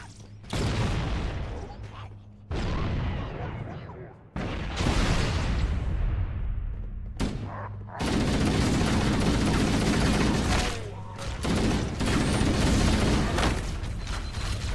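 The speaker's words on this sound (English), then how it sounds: "They're shooting rocket launchers at me" Rocket launcher fire and explosions in the Halo 1 (MCC) video game, with loud repeated booming blasts and gunfire in bursts that build into sustained rumbling chaos.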